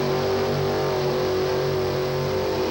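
A 1957 Thunderbird's engine roars steadily at high revs during a mud bog race, a loud continuous drone without pauses.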